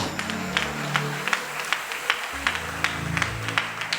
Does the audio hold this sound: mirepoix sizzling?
no